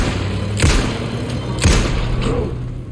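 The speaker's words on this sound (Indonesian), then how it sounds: "Ini baru kita tembak ya." Two heavy, thudding gunshots at an enemy in Alan Wake 2, spaced about a second apart over a low steady background hum.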